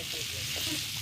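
Eggplant and potato pieces fry together in a pan, making a steady close sizzle and crackle that stays even through the short stretch.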